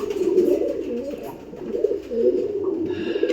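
Pigeon pairs coo close by in a steady, throaty run of soft rolling calls, with a brief higher bird sound near the end.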